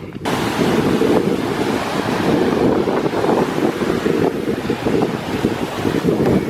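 Steady roar of sea waves and surf at the Thalassery sea pier in Kerala, mixed with gusty wind buffeting the microphone, continuous and fairly loud with no voices.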